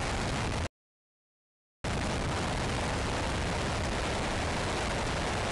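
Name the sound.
five-segment solid rocket motor firing during static test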